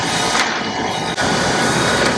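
An xTool DTF apparel printer runs a print onto film, giving a loud, steady mechanical whir with a brief dip partway through, close by and with no voices.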